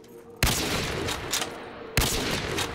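Gunfire in a Black Ops 3 zombies custom map, two loud sharp shots each followed by a sustained crackling roar and echo, close and heavy.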